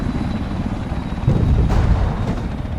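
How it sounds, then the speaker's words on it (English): A helicopter flies away from a base in the war game Arma 3, its rotor making a loud, steady droning rumble that swells briefly midway and then holds, with no voices. "you can see the helicopters are flying away, taking people to their destinations"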